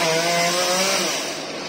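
A chainsaw runs loud and steady at close range, its engine droning as it cuts through a tree trunk, then easing slightly near the end.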